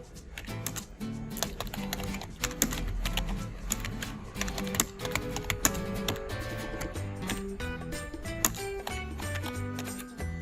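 Fingers typing on a computer keyboard while entering data in Microsoft Excel, an irregular flurry of close, crisp key clicks and taps continuing throughout.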